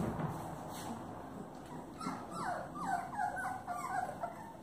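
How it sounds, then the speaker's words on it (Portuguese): Chow Chow and German Shepherd mix puppies, about 28 days old, whimpering and yipping close by in a series of thin, rising cries that grow busier toward the end. "Os filhotinhos lindos."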